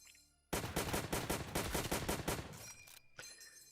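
M1 Garand rifle firing in the Roblox game Zombie Rush: a quick, evenly spaced run of about a dozen sharp, close shots, then a pause and one more crack.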